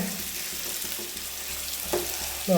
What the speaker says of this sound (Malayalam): ആ വറുത്ത അതേ എണ്ണയ്ക്ക് നമ്മൾ ചെറിയ ഉള്ളി ഇട്ട് ചെരിക്കലും ഒക്കെ